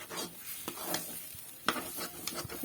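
Metal spoon stirring a cauliflower mixture in a sizzling frying pan, with close, irregular scrapes and knocks over a steady fry.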